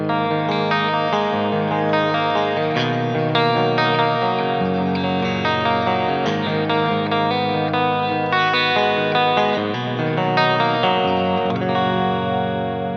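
Electric guitar in the middle pickup position, both inside coils together, rings out chords and notes continuously with a shimmering, slightly chorused tone, played steadily up close with no talking.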